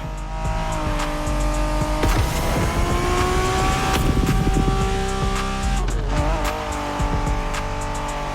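A Honda NSX races in The Crew Motorfest, its engine roaring steadily as tires squeal through corners, with revs rising and falling over a loud, continuous stretch of game audio.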